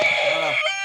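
A short, loud electronic rooster crow rings out from a game-show buzzer, a single bright cock-a-doodle-doo lasting under a second.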